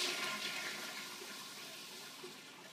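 Toilet flushing in a cleaning product advert, a single rushing whoosh of water that slowly fades as the bowl drains, heard alone without talk.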